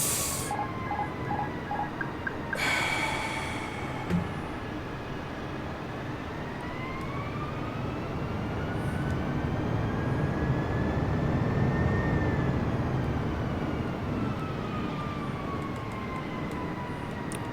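A small airplane engine in Microsoft Flight Simulator drones steadily, its pitch climbing and swelling as the throttle is pushed forward and then holding at a louder, higher hum.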